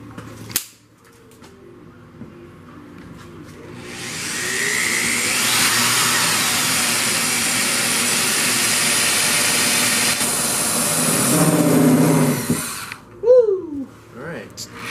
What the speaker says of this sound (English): We're gonna drill this hole.